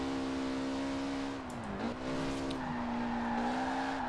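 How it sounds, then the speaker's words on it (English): Car drifting through corners in Forza Horizon, a loud steady engine drone with a long tire squeal that dips briefly mid-slide, then holds on, no talk. "these corners are fantastic for sliding it. My drifting's terrible"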